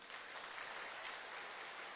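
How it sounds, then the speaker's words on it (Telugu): An audience clapping at a political rally, a dense wash of applause heard from a distance, steady and fairly faint for the whole stretch. "ఒక్కసారి గట్టిగా చప్పట్లు కొట్టండి."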